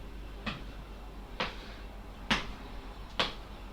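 Four regularly spaced hard foot stamps on the floor during an exercise session, each a sharp slapping impact heard fairly faintly over low background hum.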